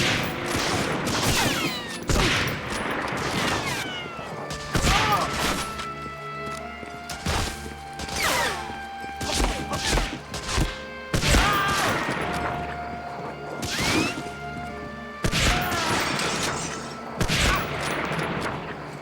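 Dense gunfire from the PS2 game Medal of Honor: Frontline, with repeated loud bursts and rapid volleys over a steady musical score, occasional crashes and impacts throughout.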